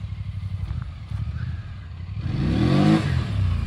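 Polaris Sportsman Highlifter ATV engine rumbling at low idle, then revving hard and rising in pitch as the quad is pulled up into a wheelie, loud and close with no talking.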